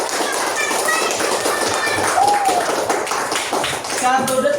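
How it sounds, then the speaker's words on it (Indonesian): Schoolchildren in a classroom clapping for a group, scattered hand claps mixed with lively children's voices and shouts throughout. "Tepuk tangan untuk kelompok 4."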